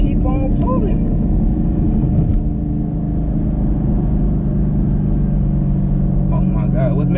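A tuned SS car pulls hard under acceleration, its engine droning loudly and steadily close by while excited voices talk over it throughout.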